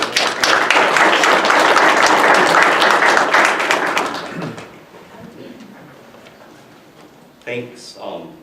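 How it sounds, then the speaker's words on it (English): Audience applause for a presenter at a talk, a broad steady clapping from a room of people lasting about four seconds before fading out into quiet, followed by a brief voice. "let's give a little applause for her"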